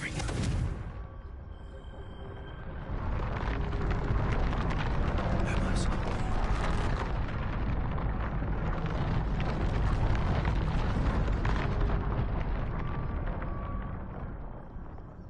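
A Confringo spell blasts in the Hogwarts Legacy video game, a loud, sustained explosive roar with rumbling debris that swells and holds for several seconds before tapering, with a voice speaking over it.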